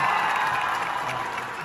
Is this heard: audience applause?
yes